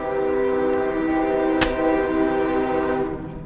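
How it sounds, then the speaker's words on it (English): Passing train blowing its horn: a loud, steady, multi-tone horn blast holds throughout, with a sharp clank near the middle and the sound easing off at the end, and no voices. "That train is out of control."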